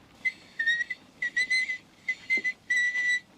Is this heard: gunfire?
no